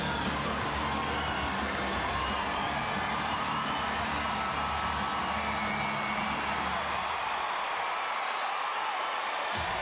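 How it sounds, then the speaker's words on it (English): Arena crowd at a PBR bull riding event cheering and whooping, a broad, steady roar of many voices that holds for several seconds before thinning out near the end. "The crowd shows their appreciation."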